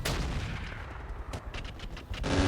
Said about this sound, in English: I'm going to drop artillery on the Osprey here